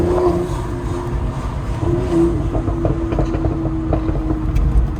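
Car engine running in third gear, a steady low drone with rumble and road noise throughout, no speech.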